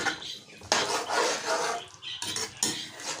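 Garam masala and white cumin being mixed into kofta curry gravy in a pan, with close, vigorous scraping and clattering of a spoon against metal in bursts broken by short pauses and no speech.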